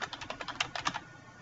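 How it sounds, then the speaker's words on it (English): Quick, close typing on a computer keyboard, a brisk run of light key clicks lasting about a second. "in the footer, let's type your name"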